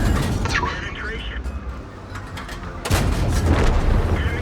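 Main gun of the O-I heavy tank firing in World of Tanks: loud, cracking cannon shots rolling over constant engine rumble, with the heaviest blast near the end and someone talking throughout.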